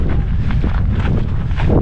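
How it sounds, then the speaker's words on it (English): Steady, loud wind buffeting the microphone in the Australian outback between Uluru and Kings Canyon, a continuous low rumble with gusty rustling throughout. "Oh yeah, it's going to be windy everywhere."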